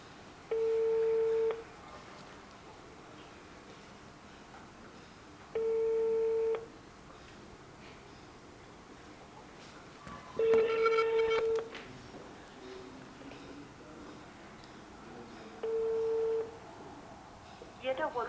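A telephone call tone sounds in four evenly spaced beeps about five seconds apart, each lasting roughly a second, faint between bursts, with a voice briefly overlapping the third.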